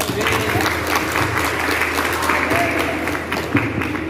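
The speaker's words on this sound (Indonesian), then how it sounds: "Tepuk tangan dong untuk mereka berdua." A studio audience claps for two people in a loud, sustained round of applause that stays dense and even throughout, with a voice faintly audible beneath the clapping.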